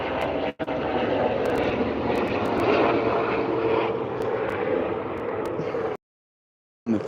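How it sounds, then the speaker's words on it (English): Aircraft droning steadily overhead, a broad continuous engine roar with no speech, lasting several seconds before cutting off abruptly into silence near the end. "There's a helicopter flying over us."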